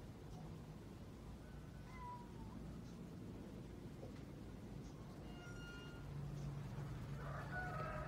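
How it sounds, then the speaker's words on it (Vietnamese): Inside an abandoned house, a cat's faint, distant meows come through steady background hiss, along with occasional chicken clucks and crowing from outside. "Vừa nghe tiếng mèo kêu ở đâu đây nè cả nhà."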